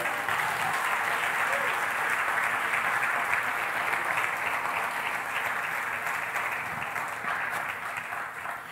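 A church congregation at an evening service applauds in praise, a steady wash of many hands clapping that gradually fades slightly toward the end, with no distinct speech over it.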